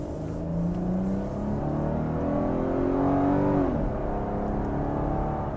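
A 2018 Volkswagen Atlas SUV accelerates on the road, heard from inside the cabin as an engine note that climbs steadily for a few seconds, drops at a gear change, then pulls again over constant road rumble.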